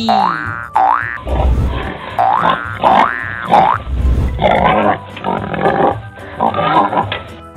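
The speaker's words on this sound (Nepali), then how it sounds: "Pig" A playful cartoon-style sequence with a bouncy boing followed by several loud pig-like grunts and oinks in quick succession.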